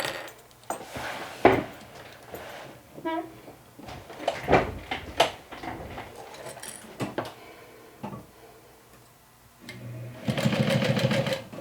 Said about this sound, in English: now we're going to stitch it down.